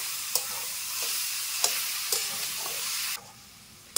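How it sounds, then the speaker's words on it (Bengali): Grated coconut and jaggery are stirred in a hot pan for coconut naru: a continuous soft hiss and sizzle with occasional sharp scrapes and taps of the spoon, then a sudden drop to quieter sizzling. "আর নাড়াচাড়া করতে করতে কিন্তু গুড় থেকে জল কেটে আসবে।"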